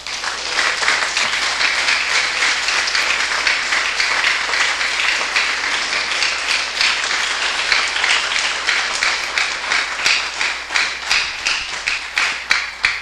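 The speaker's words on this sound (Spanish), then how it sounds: "Brinden un aplauso al Señor." A church congregation applauding the Lord during a service, with dense, loud, continuous clapping that runs unbroken and alone from start to finish.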